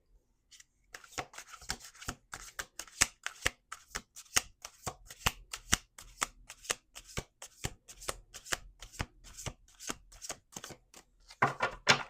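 Tarot cards being shuffled by hand, a long run of crisp, rapid riffling clicks and snaps, close and fairly quiet, with an uneven rhythm and a denser burst at the end.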